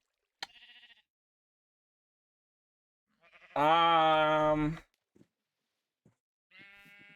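Sheep bleats in Minecraft with the Enigmatica 2 Expert modpack: a brief faint bleat, then a loud drawn-out one in the middle, and a shorter bleat at the end, with near silence between.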